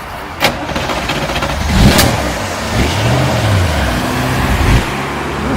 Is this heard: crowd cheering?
no